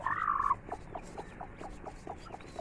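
An Aseel hen sitting on hatching eggs gives a sharp squawk as she is lifted, then settles into soft, steady clucks at close range.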